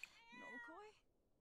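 Pet cats meowing close by, a few overlapping tonal mews in one short burst that fades into quiet.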